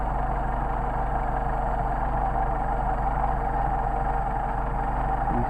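A Mercedes-Benz 190SL engine with a Solex carburetor idles steadily nearby with a low, even rumble and a faint irregular stutter as the carburetor adjustment degrades it, no voices present.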